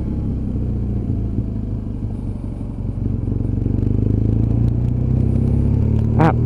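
BMW R1200GS motorcycle engine heard while riding at a steady 30, a loud, continuous low rumble with a gradual rise in pitch and intensity, dominated by engine drone and road noise.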